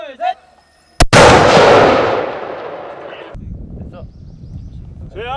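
Republic of Korea Army mortar going off during live-fire training, one loud close blast with a long rumbling tail fading over about two seconds. Shouted commands come just before and after it.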